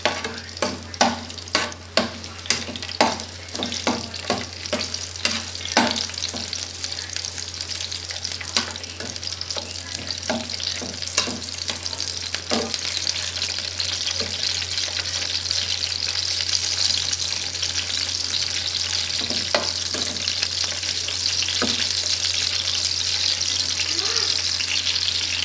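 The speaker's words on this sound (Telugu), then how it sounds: "పచ్చిమిరపకాయలు చక్కగా మంచిగా ఫ్రై అవ్వాలన్నమాట." Green chillies fry in hot oil, with quick clicking stirs of a spoon against the pan at first, then a continuous, close sizzling hiss that grows slightly stronger.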